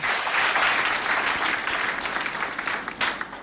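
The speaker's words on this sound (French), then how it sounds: "Applaudissez bien fort pour lui." A school audience at a lycée in Doba applauds a teacher on the jury, a sustained round of clapping at moderate level that swells briefly near the end.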